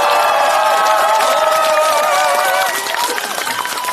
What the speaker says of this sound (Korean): 커다란 박수 함성을 다시 한번 부탁드립니다